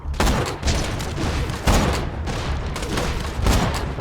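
Gunfire in Borderlands on the Nintendo Switch, a sniping battle with loud repeated booming shots roughly every second, each one heavy and close, with a rumbling tail.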